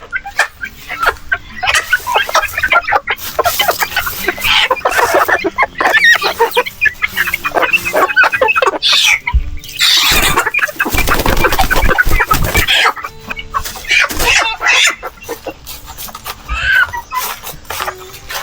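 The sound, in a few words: native chickens clucking on a farm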